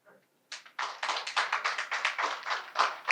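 Audience at a 2020 PNM political rally in Arima clapping, a dense burst of applause that starts abruptly after a brief murmur and carries on steadily and fairly close.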